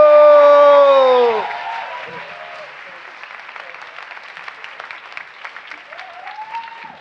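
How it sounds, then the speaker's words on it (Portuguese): A raised voice calls out over a crowd at the start, then a live audience at a Portuguese-language panel event settles into steady, moderately loud applause and crowd noise that carries on evenly to the end. "Mais aplauso, mais barulho!"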